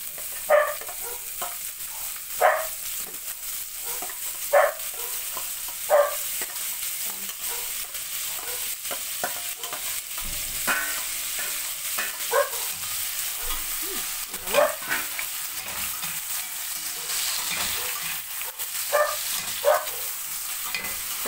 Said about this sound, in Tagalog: ilagay na natin yung kamatis, sibuyas, bawang, siling haba.